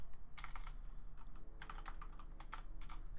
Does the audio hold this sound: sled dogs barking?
no